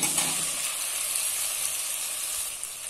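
Potatoes and flat beans fry in spiced oil for a fish curry, giving a steady, dense sizzling hiss up close that holds evenly throughout without pauses or voices.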